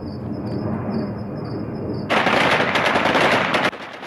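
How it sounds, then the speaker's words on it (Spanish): Taliban fighters fire bursts of gunfire into the air over Kabul; a loud rapid automatic volley rattles for over a second after a quieter stretch of distant noise, then cuts off abruptly. "así celebraban los talibanes la marcha estadounidense, con ráfagas de disparos al aire"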